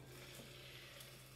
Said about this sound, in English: we're back with the chicken. You can hear it sizzling